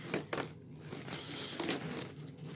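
A steak knife slices open a plastic-wrapped package, with crinkling and tearing bursts of plastic, some sharp and close, spread across a few seconds.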